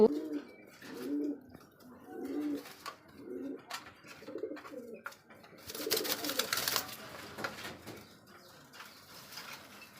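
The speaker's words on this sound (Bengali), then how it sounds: "লাল বোম ডাকে তাই না ভাই সব কবুতরই ডাকে" Red pigeons at a pigeon farm coo in a run of short, throaty, rhythmic bursts near the listener, followed by a rougher, noisier flutter of sound and fainter calls.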